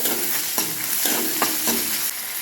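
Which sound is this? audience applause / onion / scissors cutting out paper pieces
onion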